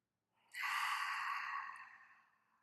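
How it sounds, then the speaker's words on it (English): A single deep breath during a morning yoga class, a long, soft airy exhale that rises quickly and then fades slowly, close and quiet with no talk. "Taking 3 deep breaths here."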